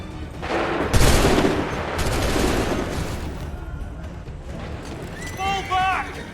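Musket volley in the Assassin's Creed III video game, a loud burst of gunfire with rolling crackle that decays over a few seconds, followed by shouted voices near the end.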